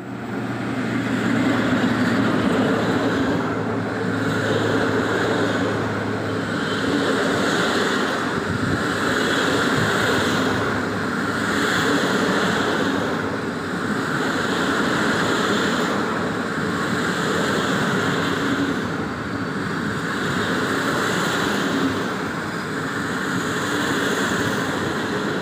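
A train hauled by electric locomotive EP07-301 runs through Warszawa Wschodnia station with a loud, continuous rumble and rhythmic surging clatter, heavy with wind buffeting on the microphone.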